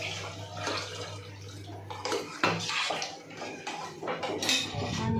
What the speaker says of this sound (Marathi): आता याच्यामध्ये आपण टाकतो बघा, आपल्याला जेवढं हवं तेवढं पाणी.